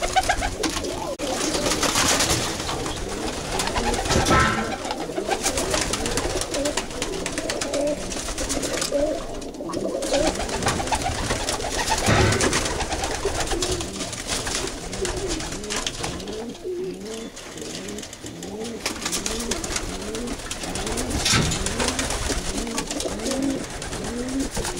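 Pigeons coo steadily and repeatedly in overlapping rolling calls throughout, several birds close by, with a faint voice occasionally under the flock.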